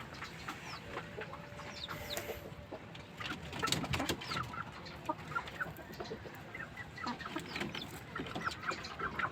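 Chickens cluck and chatter in scattered bursts, several birds nearby, with occasional sharper calls over a quiet yard background.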